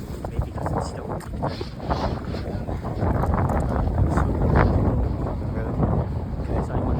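Heavy outdoor wind batters the microphone in continuous low roaring gusts, swelling louder midway, with someone speaking beneath the buffeting.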